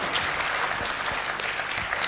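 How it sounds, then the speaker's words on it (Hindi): Theatre audience gives loud, sustained applause for director Rahul Singh and his team after the Hindustani play Kasak, dense clapping from many hands throughout, with no talking. "एक बार फिर से जोरदार तालियां हो जाए राहुल सिंह जी और उनकी सारी टीम के लिए।"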